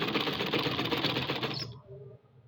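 Sewing machine stitching a coat collar, running steadily and loudly for about a second and a half before stopping abruptly, leaving faint room noise.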